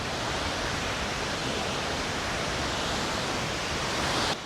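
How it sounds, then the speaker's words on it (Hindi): Water overflowing a dam near Kitwad pours down as a waterfall and then a natural stepped cascade, making a steady, loud, broadband roar that continues unbroken without any voices. "डैम से पानी ओवरफ्लो होके वाटरफॉल बन रही है"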